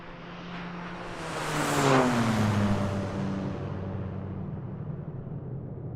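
A single flight-simulator aircraft engine roars up in pitch and loudness, peaks, then drones away and fades, like a vehicle passing close by.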